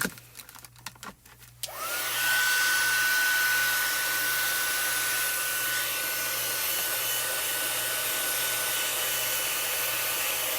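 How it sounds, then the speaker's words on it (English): A heat gun starts up and blows steadily to melt glitter embossing powder, a loud continuous whooshing drone with a faint whine that runs unbroken for most of the clip after a brief quiet handling moment. "I like to start from the bottom until my gun gets nice and hot, especially since this is glitter, so that the glitter doesn't flake off."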